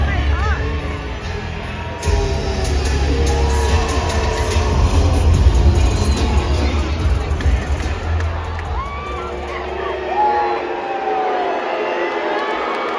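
A WWE SmackDown arena crowd reacts loudly to the Bloodline, a sustained roar of booing and mixed shouts that swells in the middle, with people talking nearby.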